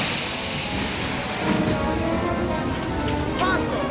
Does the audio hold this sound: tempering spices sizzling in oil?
no